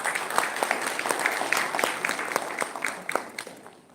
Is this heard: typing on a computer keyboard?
no